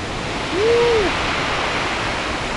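Sea waves breaking into foam on the shore at Tolsty Cape in Gelendzhik, a broad steady roar of surf, loud and continuous, with a brief whistling tone early on.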